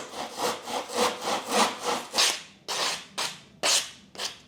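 A handsaw cuts through coving in a steady series of about a dozen rasping strokes, close and distinct, the later strokes sharper and more spaced out.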